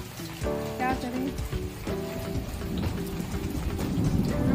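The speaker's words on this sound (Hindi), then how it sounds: "बारिश तेज हो रही है, देखिए तेज से होने लगी बारिश" Heavy rain pours down in a dense, steady hiss that grows louder toward the end, while someone talks over it in the foreground.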